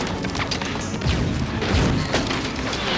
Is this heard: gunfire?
yes